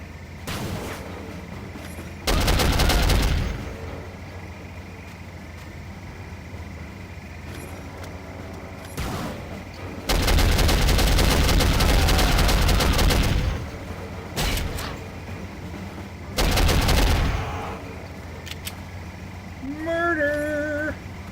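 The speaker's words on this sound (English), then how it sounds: "Who's doing the shooting?" Bursts of gunfire in the PC shooter Soldier of Fortune, some brief and some several seconds long, heavy and booming. They come at irregular intervals over a steady background din, with a short electronic tone near the end.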